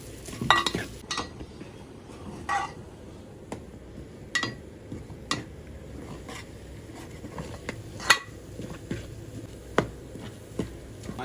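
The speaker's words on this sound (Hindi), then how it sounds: "अच्छा सा कलर आने तक सूजी को भूनेंगे हम।" Semolina roasting in a pan for suji halva, with a spoon scraping and stirring in irregular taps and scrapes over a faint low sizzle, close and alone.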